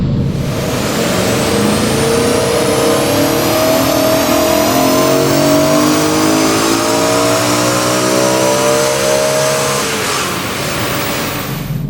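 A BMW E92 M3 with 152,000 miles revs hard on a dyno, climbing steadily in pitch for several seconds, loud and close, then dropping off near the end.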